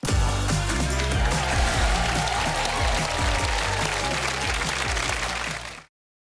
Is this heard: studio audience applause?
yes